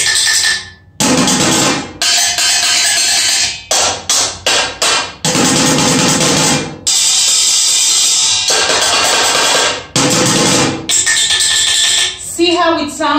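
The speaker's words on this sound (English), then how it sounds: "See how it sounds when you hit the pan with water?" Pots and pans partly filled with water are struck in quick, loud, ringing rhythmic bursts to make music, with brief pauses between runs of hits.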